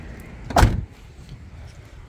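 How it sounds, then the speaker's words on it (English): An Acura car door opens with a single sharp latch clunk near the middle, close and loud, against a quiet garage background. "As soon as it opens, just grab here and open the door."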